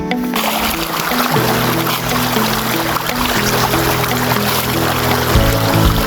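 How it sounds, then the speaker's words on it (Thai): Water pours steadily down the ninth tier of the Kao Chan waterfall in Ratchaburi during the dry season, a constant loud broadband rush with no break, accompanied by faint steady tones. "ผมรู้สึกว่าเดินมาถึงตัวน้ำตกชั้นที่ 9 แล้วนะครับ"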